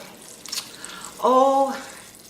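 Water poured from a container into an Instant Pot holding black beans, a short resonant pour of about half a second, fairly close and clear.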